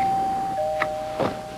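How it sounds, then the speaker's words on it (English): A doorbell rings indoors, a clear sustained chime tone followed by a few short bright dings, close and fairly loud with no talk. "if you just let me ring the doorbell"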